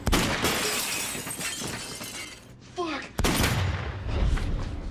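A gun fires in a dramatic scene, a loud sharp blast followed by a brief lull and then another loud crack and burst of noise, with voices faintly present.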